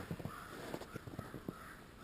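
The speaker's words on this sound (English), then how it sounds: "Shut up, you crows! Leave that owl alone." Crows caw in short bursts at an owl outdoors, several rough calls spaced irregularly over steady background noise, moderately distant.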